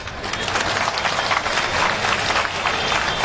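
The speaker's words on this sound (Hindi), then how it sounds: "ताली नहीं बजाएगी" An audience applauds at a community mass wedding event, a sustained, fairly loud wash of many hands clapping with no clear speech over it.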